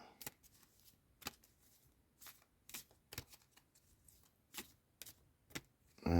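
A deck of cards is riffled and shuffled in quick, crisp bursts, spaced about one per second at close range, with no voices.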